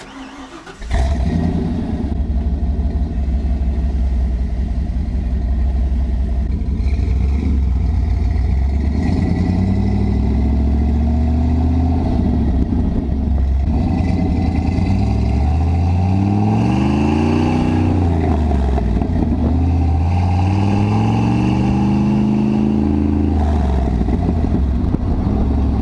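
A big block Ford Lightning truck engine runs continuously as the truck drives around the block, rumbling low and loud with repeated rising and falling revs as it accelerates and shifts, close and steady throughout.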